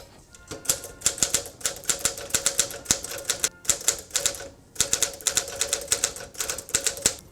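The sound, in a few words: Smith Corona Clipper typewriter typing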